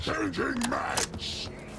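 Magazine reload in the Call of Duty Black Ops 6 beta: a quick series of mechanical clicks and clacks from the weapon, with a voice calling out in the game over the start.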